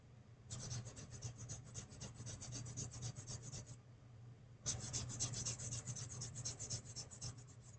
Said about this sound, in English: But now sanding down the seam lines off these